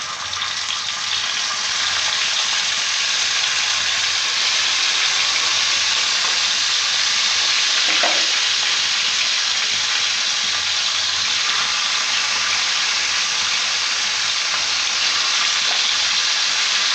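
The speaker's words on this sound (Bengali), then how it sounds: "আমি এবার মাছগুলো দিয়ে দেবো।" Fish frying in hot oil in a pan makes a loud, steady, dense sizzle that continues unbroken for the whole stretch, with no voices.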